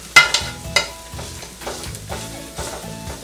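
Onions sautéing in a hot pan for a simple oat-based arroz caldo breakfast, a soft steady sizzle broken by a few sharp scrapes and stirs of a utensil, close up, with no talking.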